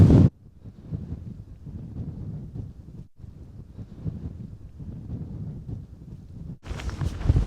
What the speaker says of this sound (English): that wind's bloody strong